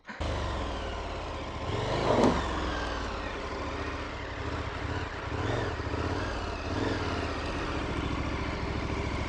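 A Honda Africa Twin big adventure motorcycle rides off-road over a washed-out, rutted trail with fallen trees, its engine droning steadily and rising and falling with throttle, plus a brief louder burst, with no talking.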